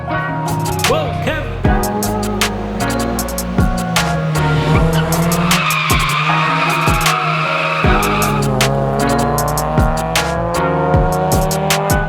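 A drift car at a touge club car meet slides with long, loud tire squeal and skidding over a roaring, revving engine, as other cars pass nearby throughout; no talk.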